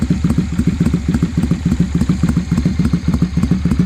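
A Honda Steed 400 old-school custom with a single carburettor idles, its engine and exhaust putting out a steady, even low thumping pulse, close and moderately loud with no talking.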